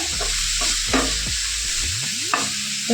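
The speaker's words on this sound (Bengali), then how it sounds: "তার আগে একটু চিকেনগুলোকে একটু ভেজে নেব।" Chicken pieces frying in a pan, a close sizzle under repeated spatula stirs and scrapes, with a few sharper clatters and no voices.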